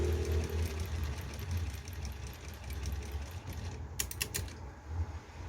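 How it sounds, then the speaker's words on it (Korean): Sewing machine stitching a zipper onto a dress during a garment repair, running in a steady mechanical whir with a brief burst of rapid stitching near the end, no talk. "지퍼를 그대로 이렇게 박았던 선 그 자리에 갖다 대고 박으면 돼요"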